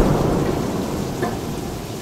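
Heavy rain pouring down with thunder, a dense loud wash of rainfall and low rumbling that stays constant through the short stretch.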